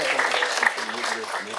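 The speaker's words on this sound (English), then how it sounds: "A round of applause." A small audience at a Board of Education meeting claps briefly, a light scattered patter of hands beneath voices talking, lasting under two seconds.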